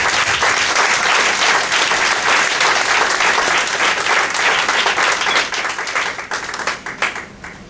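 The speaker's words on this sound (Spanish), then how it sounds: "¿Se atreve a darle un fuerte aplauso a este Salvador?" A church congregation applauds Jesus Christ with loud, sustained clapping from many hands that thins out and fades near the end.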